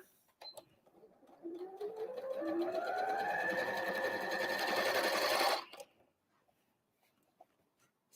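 Sewing machine stitching a Christmas tree napkin: a fast, rising whir that climbs in pitch as it speeds up, runs steadily for several seconds, then stops abruptly, followed by quiet clicks.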